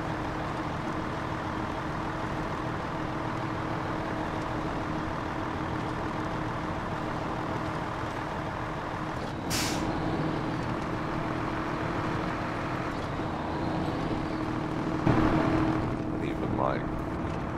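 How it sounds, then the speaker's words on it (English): A heavy off-road truck engine in the SnowRunner video game rumbles steadily with a constant low drone throughout, a brief sharp noise in the middle and a slight swell near the end. "Ooh, that engine sounds cool."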